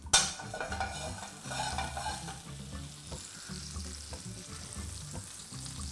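About a tablespoon of unsalted butter melts and foams in a hot frying pan, giving a continuous close crackling sizzle with light stirring scrapes, loudest at the start and then holding steady.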